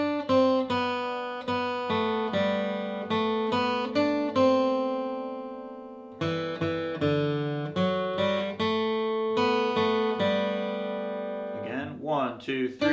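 Acoustic guitar playing the second eight measures of "Red River Valley" in beginner bluegrass style, a steady rhythm of picked bass notes and strummed chords, close and clear, with a brief scrape at the end.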